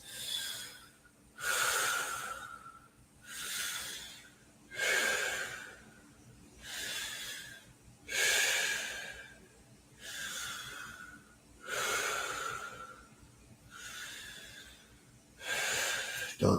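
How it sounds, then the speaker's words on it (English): Deep, slow breathing during a yin yoga session, about eight long, even breath cycles with soft airy rushes at a steady pace, close and quiet with no talking. "Five more big deep breaths."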